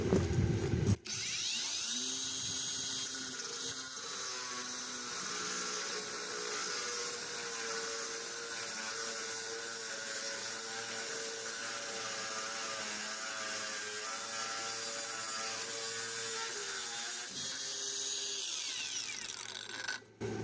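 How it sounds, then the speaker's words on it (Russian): A new PATUOPRO angle grinder whines steadily at maximum speed for nearly twenty seconds, a loud continuous cutting drone under light pressure, with a start and a slowing finish. "новая болгарка, максимальные обороты, спокойный рез"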